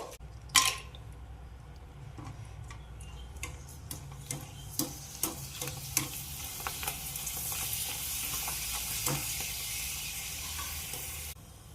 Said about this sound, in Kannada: ಸಂಡ್ಗಿ ನೋಡ್ರಿ ಫ್ರೈ ಮಾಡ್ಕೊಂಡೆ ನಾನು